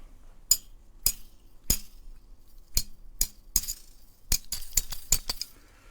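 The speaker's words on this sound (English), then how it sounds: "I've got like a glass bottle here" Glass bottle struck by hand for a homemade percussion recording: about a dozen sharp, bright clinks, widely spaced at first and then coming faster in an uneven run near the end, loud and close with no talking.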